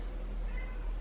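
A cat named Minouche meows from behind a closed door, a faint, muffled cry over steady background hiss.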